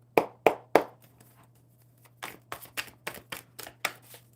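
A deck of playing cards being shuffled by hand: three sharp riffle bursts close together, a short pause, then a faster run of about seven crisp snaps and bridge taps, near and loud with a faint steady hum beneath.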